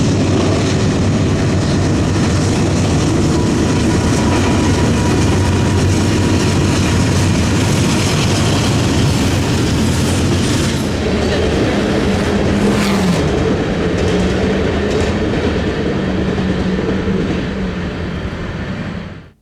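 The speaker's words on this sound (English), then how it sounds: "the double C6M powered coal train rolled by" A heavy Norfolk Southern coal train led by two GE C6M locomotives rumbles past continuously and loudly, with wheel clatter and grinding, growing slightly fainter toward the end.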